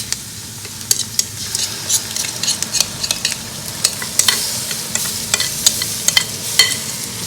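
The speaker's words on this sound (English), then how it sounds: "I'm going to add our curry paste now" Constant sizzling of curry paste in a hot pan, punctuated by frequent sharp crackles and pops, with no voices.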